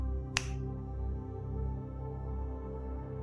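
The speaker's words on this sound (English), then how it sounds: "I'm now going to count to 3 and snap my fingers." A single sharp finger snap, close and crisp, followed by quiet room tone with a low steady hum.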